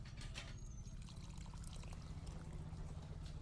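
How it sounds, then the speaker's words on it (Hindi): Water is poured into a pan of Bhuna Aloo Masala, a gently trickling pour over a steady low stovetop rumble, close and fairly quiet, with no talking. "थोड़ा पानी ऐड कर देंगे"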